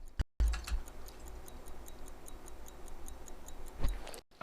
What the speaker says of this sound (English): it's ticking away nicely